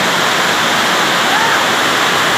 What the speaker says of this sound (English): another rainy day in Lombok